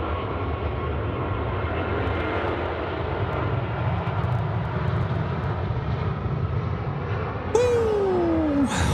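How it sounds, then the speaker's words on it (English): An Emirates Airbus A380 takes off at night from Sydney Airport, a steady loud jet engine roar that holds throughout, with a brief whistle or shout near the end. "The Emirates A380 there"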